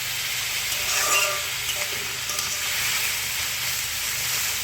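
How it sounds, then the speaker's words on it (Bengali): Pieces of watermelon rind sizzle in a hot pan, a constant close hiss with a brief swell of louder crackling early on, then settling into even frying with no talking. "তো কিছুক্ষণ ভাজা হতে দেবো।"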